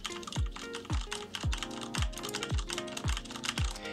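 Keys on a computer keyboard are struck in an even, steady rhythm of about two presses per second, close and fairly quiet with no talking.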